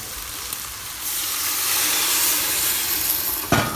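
Liquid is poured into a hot pan of onions for couscous royale and deglazes it with a loud, continuous sizzling hiss that swells. A sharp clatter comes near the end.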